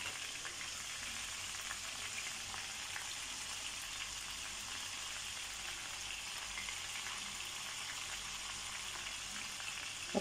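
Onion frying in a Moroccan tagine for a meat and mallow dish, a soft continuous sizzle with faint crackles, quiet and even throughout, no voices.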